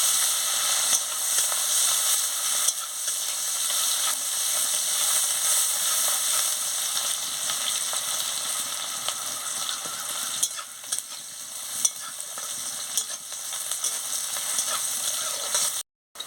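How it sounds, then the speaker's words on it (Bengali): Chopped onion frying in a pan for a fish curry with eggplant, potato, carrot and beans: a dense, steady hiss and sizzle of hot oil, close and even throughout, with a few faint stirring scrapes and a brief cut near the end. "দিয়ে পেঁয়াজ কুচিটাকে ভালো করে ভেজে নিচ্ছি"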